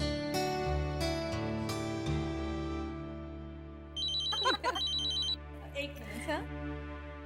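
A phone rings during a call home in a Hindi TV drama scene, a bright repeating electronic ringtone in two bursts over soft background music.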